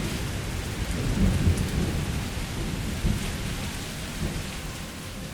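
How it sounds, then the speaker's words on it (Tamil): Thunderstorm with steady heavy rain hissing on surfaces, punctuated by a deep rolling thunder rumble and a later sharper thunderclap, with no voices. "அன்னைக்கு திடீர்னு மேகம் இருண்டது இட்டி இடிச்சது மழை பெஞ்சது"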